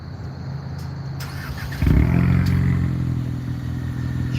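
A 2020 Mercedes-AMG GT 63 S engine idles with a faint hum, then fires up near 2 seconds into a deeper, louder steady exhaust rumble, heard close from behind the car.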